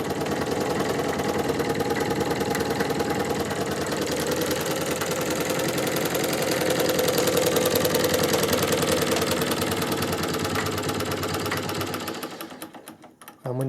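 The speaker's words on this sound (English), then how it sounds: "after a little bit of oil, that's a pretty nice bearing sound" A freshly oiled Singer 15K treadle sewing machine runs in its cabinet with a steady, even mechanical whir and fast rhythmic ticking, close and fairly loud, slowing and stopping near the end.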